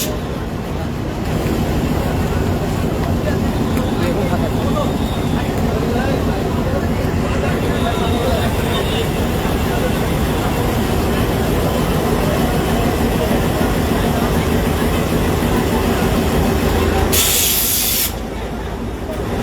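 A shuttle train on the Rajbari–Kushtia line passes at Madanpur level crossing in Kushtia, a loud, steady roar and hiss that fills the whole stretch before a brief sharp burst near the end.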